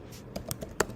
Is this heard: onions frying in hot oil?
no